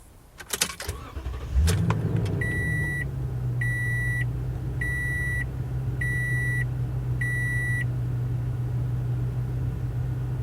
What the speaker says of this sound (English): the Tundra immediately starts right up like a champ without any kind of mechanical issues whatsoever